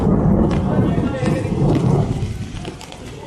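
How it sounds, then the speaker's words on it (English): Thunder during a storm at Lake Como near Bellagio, a deep, loud rolling rumble that swells and lingers, with light rain-like hiss and a voice speaking under it. "You should hear some thunder here in a second."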